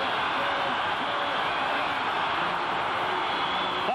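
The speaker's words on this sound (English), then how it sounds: "that Miami secondary ranked as the best in America, inciting this crowd to create some noise" Loud, steady roar of a football stadium crowd at a 1994 Pittsburgh vs. Miami college game, a dense wall of cheering noise sustained without break.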